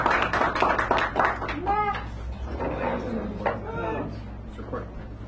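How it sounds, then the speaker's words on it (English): An audience at a small San Francisco café poetry hour gives poet Max a round of applause, a short burst of close handclaps that quickly fades as people start talking. "Max, give Max a round of applause."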